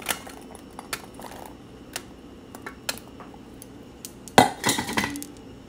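A utensil clinks lightly against a bowl while batter is stirred, the sparse ticks scattered and close, then a louder flurry of clattering scrapes near the end.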